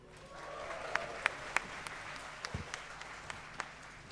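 An audience claps at the opening of a duet singing concert, scattered individual claps ringing out clearly over a soft background of spread-out applause, a few sharp nearby hand claps standing out irregularly over four seconds.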